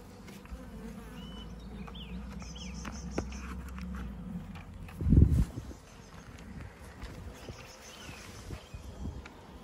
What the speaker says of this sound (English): The bees are going in and out the new entrance.